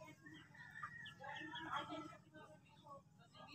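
Small bantam-type chickens cluck and chatter in quick, irregular bursts, faint and fairly close, with people talking underneath.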